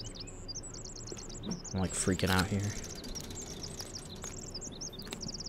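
Birds chirping in the game The Forest after a plane crash: repeated high, quick tweets at a moderate distance over a faint insect hum, with someone talking excitedly partway through.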